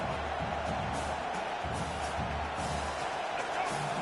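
Stadium crowd in a college football video game, Michigan versus Ole Miss, roars continuously as the defense tries for a red-zone stop; a dense, loud, sustained wash of cheering with no breaks.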